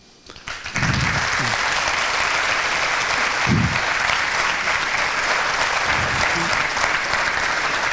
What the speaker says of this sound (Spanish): Eso es la mejor manera de agradecerlo con el aplauso que le pido al público para vosotros tres.